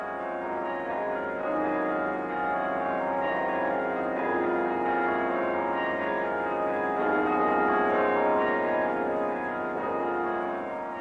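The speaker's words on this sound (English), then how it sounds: "It has a 53-bell carillon, which is played by a carillonneur." A cathedral's 53-bell carillon rings out in a sustained wash of overlapping tones, rich and resonant, continuing steadily at a fairly loud level with no voices.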